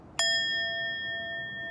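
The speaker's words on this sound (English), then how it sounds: "I'm going to invite the bell now." A single yoga singing bowl or meditation bell is struck once to open a breathing exercise, ringing out clear and loud, then sustaining a long steady chime with several pure tones that barely decays.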